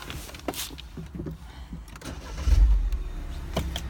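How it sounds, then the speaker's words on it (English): A 2015 MINI Cooper Convertible starts up: a brief cranking whir builds into a low engine catch and steady near idle, with no talking. "I am just going to step in and start her up"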